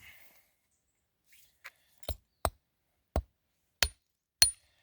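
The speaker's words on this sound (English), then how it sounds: "we're gonna use our hammer to break it up." A hammer striking and breaking up soft rock host material while rockhounding in Oregon, six sharp separate knocks spaced about half a second apart, close and clear against near silence.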